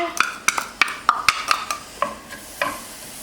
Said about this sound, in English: put a little bit of olive oil in the pot and then put your onion